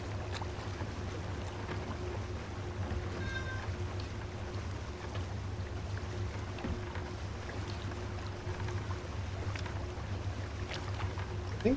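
A kitten meows faintly a few times in a video game, set against a steady low ambient hum and background noise.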